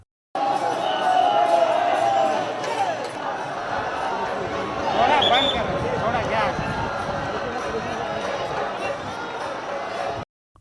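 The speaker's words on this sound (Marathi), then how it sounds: "पालखी देवळाबाहेर आल्यावर एकच जल्लोष झाला" A large crowd of devotees gathered outside a temple as Sant Tukaram Maharaj's palanquin emerges, a loud continuous roar of many voices with a swell in the middle.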